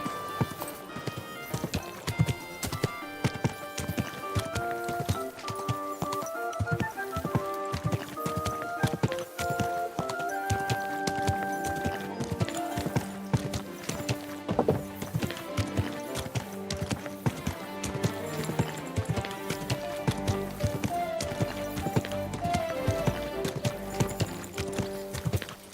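Horse hooves clip-clop steadily in the video game Kingdom Come: Deliverance 2, a brisk repeated rhythm running throughout over a busy melodic game soundtrack, with an occasional whinny and no clear talking.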